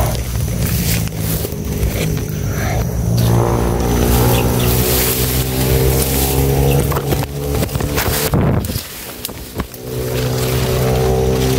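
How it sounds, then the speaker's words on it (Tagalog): Motorcycles pass by on a highway, their engines loud and close as they roar and rev, with a continuous traffic drone that briefly dips before rising again, and no voices. "Marinig na natin yung mga tunog ng dumadaan na mga motorsiklo"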